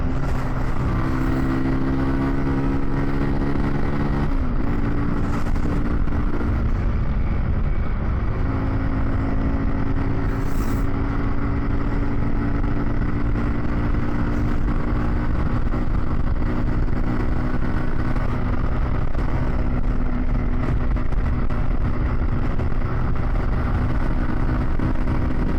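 A Kawasaki Z125 Pro motorcycle runs at full throttle downhill, its small engine holding a loud, continuous buzzing drone that dips briefly as if on a gear change, then climbs again over steady road and wind noise.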